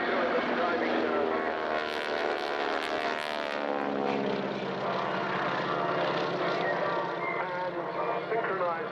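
Display aircraft in a synchronized dive at the RAF Cosford Airshow, a loud continuous engine roar with a slowly falling pitch sweep, heard from the ground under faint crowd noise.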